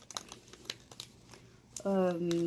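Shopkins Happy Places toy packaging is torn open from the top, giving soft crinkles and rips under a speaking voice, followed by a sustained tonal chime at the end.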